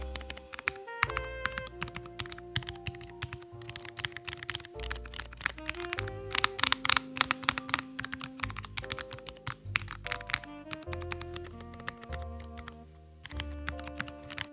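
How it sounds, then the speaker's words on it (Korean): Buttons with Cherry MX Low Profile Silver Speed switches click rapidly on a German Auxbox/Meisterbox hitbox arcade stick, a steady run of light taps over sustained tonal notes that change pitch with the presses. "쓰이는 스위치는 Cherry MX Low Profile Silver Speed인데 높은 퀄리티 스위치라고 할 뿐만 아니라 사운드도 작은 편이고 좋아요"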